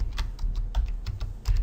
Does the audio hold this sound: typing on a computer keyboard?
yes